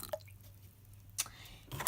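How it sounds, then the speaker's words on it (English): Water poured into slime in a bowl while making jiggly slime, heard as a few faint drips and splashy squishes, with a brief wet burst in the middle and a louder liquid splash at the end. "add some water to it"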